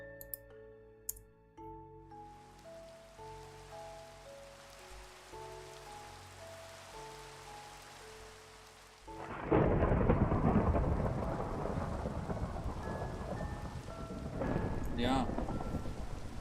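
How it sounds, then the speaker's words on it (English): Steady rain roars in after a quiet stretch of game music, with thunder rumbling through a video game thunderstorm; a brief spoken word sits near the start. "Let's set the weather"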